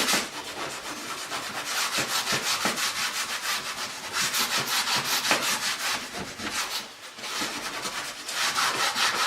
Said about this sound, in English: let's get into the scouring pad.